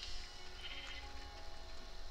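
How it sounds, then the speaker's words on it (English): A sheep bleats faintly in Minecraft, a soft, brief call half-buried under steady hiss and game background noise, with no talk. "you should grow up to be a big, healthy sheep."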